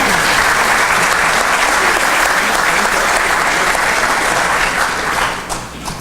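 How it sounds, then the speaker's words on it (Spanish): Sustained audience applause at a mining institute lecture, a dense, even wash of clapping from a full room that begins to thin near the end. "Un fuerte aplauso, por favor"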